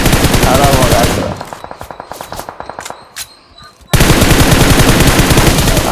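M249 machine gun bursts in a battle-royale shooter match on the Rondo map, rapid rhythmic automatic fire loud at first, then a stretch of quicker, thinner distant shots with sharper cracks, before heavy continuous fire resumes close and loud.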